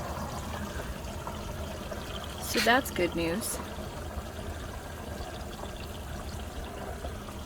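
Water pours and trickles steadily into the water tank of a NuCamp camper, a low continuous hiss with a brief louder splashing burst in the middle, while someone talks over it.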